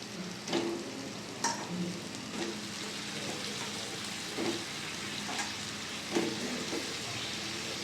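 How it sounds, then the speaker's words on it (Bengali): Chicken pieces go into a sizzling, well-cooked spice paste in a pan, a soft steady fry with a few light stirring scrapes and knocks spaced through, quiet and close. "মশলা কষানো হয়ে গেছে, চিকেনটা আমি দিয়ে দেবো মশলার মধ্যে।"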